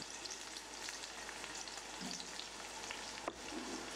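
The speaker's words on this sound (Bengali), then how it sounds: "এবার এদেরকে প্রায় 10 মিনিট ধরে ভাজবো।" Tomatoes and capsicum fry in a pan, a dense, even sizzle heard up close, with one brief utensil tap near the end.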